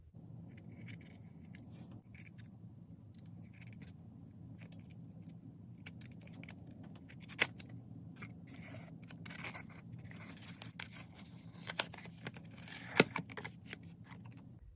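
A blade cuts open a cardboard Hot Wheels box for a 1991 BMW M3, soft scraping and slicing with a few sharp clicks and rustles, quiet and close, no talking.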